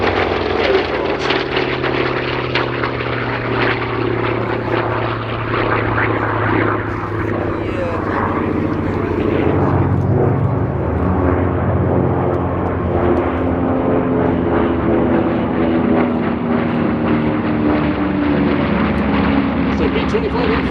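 Warbirds such as a B-25, Mustang, Corsair and P-38 fly low over an airshow at Sywell with a loud, continuous piston-engine roar and propeller drone that rises and shifts throughout, while voices talk underneath.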